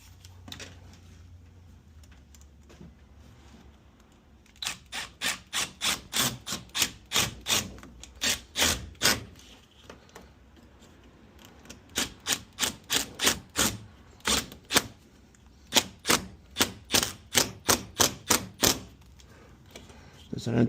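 Clamps being tightened on a rubber, insulated condensate drain tube for a ceiling cassette HVAC unit, heard as bursts of sharp ratcheting clicks in quick rows with short pauses between, close and fairly loud.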